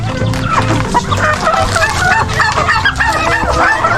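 Several hens cluck steadily and overlapping, close by, with a busy farmyard bustle and occasional crowing-like calls mixed in; some are laying eggs at the start of breeding season.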